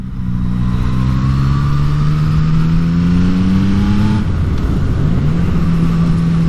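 Cars pass along a narrow lane in the New Forest, heard from a Yamaha MT-09 motorcycle; a steady engine drone with rising and falling pitch holds throughout, loud and close, with a shift in tone near the end.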